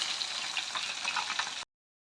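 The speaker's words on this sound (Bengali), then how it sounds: "এরকম লাল করে ওই পিঠটা আমরা ঠিক ভেজে নেব।" Pieces of katla fish frying in oil in a pan, a steady close hiss and crackle that runs for over a second and a half and then cuts to silence.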